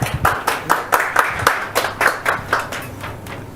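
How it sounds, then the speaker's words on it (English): Applause for leadership race candidates at a Q&A event, a round of clapping with distinct claps early on that blend into steady, moderately loud applause before fading slightly. "let's have a round of applause for our candidates"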